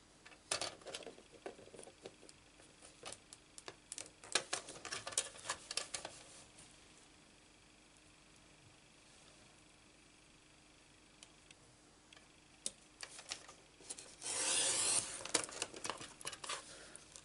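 Paper being trimmed at the bottom edge for a handmade greeting card, giving soft crinkling and ticking cuts in quick clusters up close, a quiet pause midway, then a louder burst of handling near the end.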